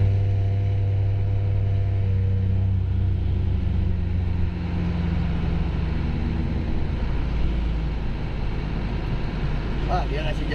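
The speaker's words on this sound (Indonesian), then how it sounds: "Itu knalpot itu di bawah lampu rem itu loh guys." Steady low exhaust rumble from a vehicle on a Sumatra highway, droning continuously with shifting engine tones, close and moderately loud throughout under faint background noise.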